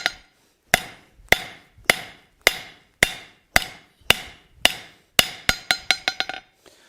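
A blacksmith hammers hot steel latch stock on an anvil to draw it out, sharp ringing blows landing at a steady measured pace and then quickening into a rapid closing flurry, close and distinct with no voices.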